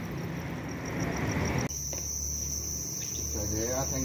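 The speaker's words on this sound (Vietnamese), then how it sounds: "Đây 4 thùng dế đây bà con này" Crickets kept in boxes at a cricket farm chirp continuously in a dense, steady trill, with a brief thump midway and faint background noise but no speech.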